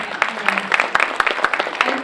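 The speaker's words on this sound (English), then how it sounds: "Well, let's give Jada a round of applause." Audience applause at an African American Read In community event, a brief burst of moderately loud, fairly dense clapping from a roomful of people, with a faint tone in the background.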